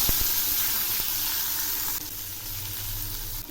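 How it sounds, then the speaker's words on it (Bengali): Sliced onions and black cumin seeds hiss and sizzle steadily in hot oil left from frying fish, a close, bright frying crackle with occasional pops and no voices. "এখন আমি ওই তেলে হাফ চামচ কালো জিরে দিলাম, আর দিচ্ছি দুটো ঝুরি করা পেঁয়াজ"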